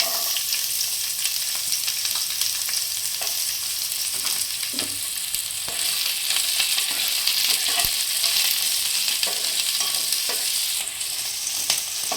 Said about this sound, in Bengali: এরপর আমি পেঁয়াজটা দিয়ে দিচ্ছি ফোড়নে।